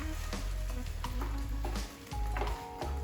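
Ground cumin and smoked paprika stirred into a sizzling pan of stuffed capsicum filling, a steady close frying hiss with scraping spoon strokes throughout.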